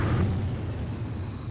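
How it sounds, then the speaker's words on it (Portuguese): Helicopter noise in the Ace Combat 5 flight game, a steady loud engine roar with a whining tone slowly falling, close and continuous without voices. "Ainda tá com barulho de helicóptero"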